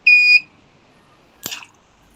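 A gas leak detector's buzzer gives one short, loud electronic beep, followed a moment later by a brief click or rustle; the rest is quiet.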